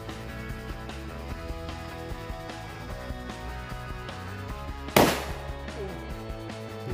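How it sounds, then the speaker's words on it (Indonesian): A yellow Happy Flower Top sunflower firecracker goes off in a single sharp bang after several seconds of steady background hum, the blast decaying quickly. "ini kita nyalain mercon happy flower top yang warna kuning atau mercon sunflower"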